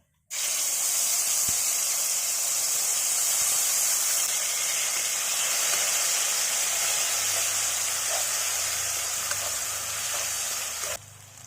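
Tomato, green chili and ginger paste sizzles steadily in a hot pan for a cabbage dish, a loud continuous hiss that starts abruptly and runs unbroken to the end.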